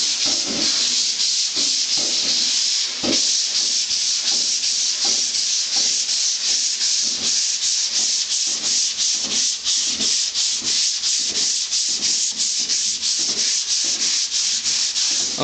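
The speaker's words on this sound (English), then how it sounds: "I've been sanding quite a bit here" Steady back-and-forth strokes of a sanding block across a car body panel being flattened, a dense rhythmic rasp that repeats fast and evenly, close and loud with no talking.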